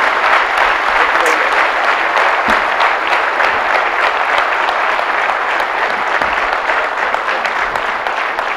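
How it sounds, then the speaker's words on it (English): Steady, dense audience applause for two sports-leadership panelists, Javagal Srinath and Joy Bhattacharjya, at a conference session, sustained evenly throughout with no pauses. "let's give a warm round of applause to our panelists"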